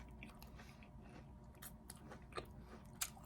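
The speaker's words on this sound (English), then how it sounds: "Take notice of the crunch." Crunchy bites into toasted light bread topped with avocado, up close and faint, with soft chewing and a couple of sharper crackling crunches near the end, no talking.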